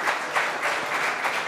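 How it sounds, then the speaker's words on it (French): Brief burst of audience applause following a panel debate on financialization and health, dense clapping heard up close and filling the whole short moment. "Vous pouvez les applaudir"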